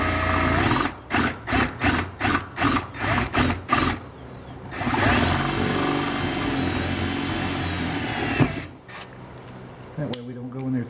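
Electric drill boring into a bone to make a flute whistle, first in a run of short bursts roughly twice a second, then one long sustained whirring stretch, with a voice speaking between passes.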